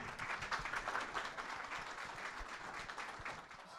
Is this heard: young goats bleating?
no